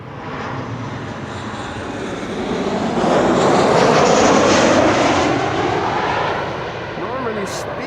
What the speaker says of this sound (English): KLM flight 1958 arriving from Istanbul, Turkey.